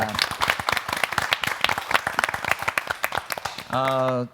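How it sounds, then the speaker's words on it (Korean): Dense, steady applause from a Christian revival gathering crowd, many hands clapping together. Near the end a sustained tone rises over it. "박수로 환영하겠습니다"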